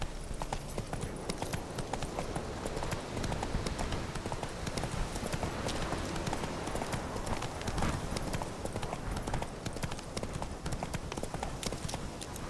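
Hooves of Roach, a horse in The Witcher 3, clip-clopping in a steady rapid rhythm across the whole stretch, continuous and even, blended with outdoor game ambience.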